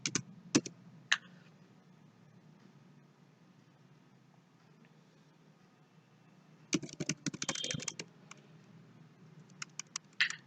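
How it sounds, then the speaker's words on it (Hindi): Scattered computer keyboard presses, a few isolated clicks early on, then a dense cluster of keystrokes and several single taps near the end, close and fairly quiet over a low background hiss. "एंटर एंटर करते जाएं।"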